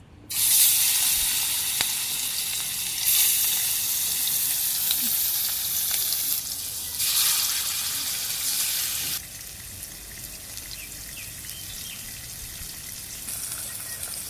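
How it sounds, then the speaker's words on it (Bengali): Rohu fish goes into hot oil in a village kitchen and fries with a loud, steady, close sizzle that swells and eases in waves. "তেলও গরম হয়ে গেছে, এই যে দিয়ে দিতেছি মাছ।"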